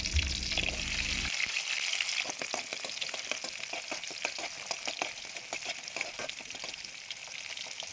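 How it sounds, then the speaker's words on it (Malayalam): Garlic, shallots and tamarind sauté in hot coconut oil, making a constant bright sizzle broken by rapid crackling pops. A louder stirring or clattering burst opens it. "5-6 കഷ്ണം വെളുത്തുള്ളിയും കുറച്ച് ചുവന്നുള്ളിയും കൂടി ചേർത്ത് നല്ലപോലെ ഒന്ന് വഴറ്റിയെടുക്കാമേ"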